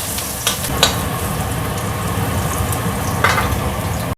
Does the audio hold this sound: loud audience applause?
no